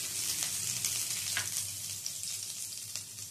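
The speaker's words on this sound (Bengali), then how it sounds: "তেলটা গরম হয়ে গেলে এর মধ্যে দিয়ে দিচ্ছি আদা কুচি, রসুন কুচি, কাঁচা লঙ্কা কুচি" Chopped ginger, garlic and green chilli hit hot oil and sizzle steadily up close, with a few light stirring taps breaking through the short, fairly quiet hiss.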